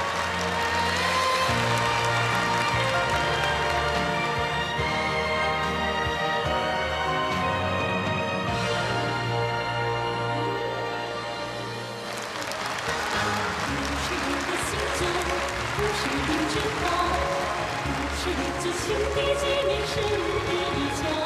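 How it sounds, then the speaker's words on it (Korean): Enthusiastic applause from a large crowd fills a stadium during a state welcome event with Chinese folk dance, steady and loud throughout with music and narration running over it. "장내에는 열렬한 박수가 터져 올랐습니다"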